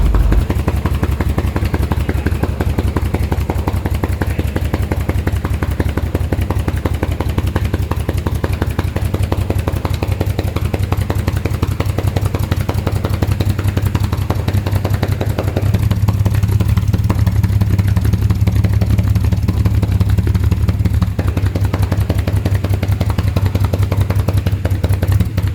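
A 1938 SS Jaguar 3½ litre drophead engine runs after its first start in over 50 years, with a loud, steady, rough mechanical clatter and a deep rumble throughout and no talk.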